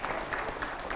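Studio audience applause during a televised panel of editors questioning Swami Ramdev, a steady wash of clapping throughout a brief moment, moderately loud.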